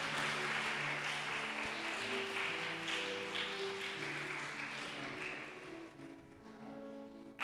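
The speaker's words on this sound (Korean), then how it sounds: "수료증을 수여할 때 뜨거운 박수 부탁드립니다." A Korean church congregation in Dortmund applauds during a Sunday service certificate presentation: sustained, dense clapping from many people fills the room for several seconds, with a sustained musical tone underneath, then thins slightly toward the end.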